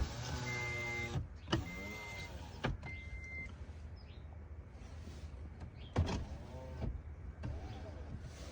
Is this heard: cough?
no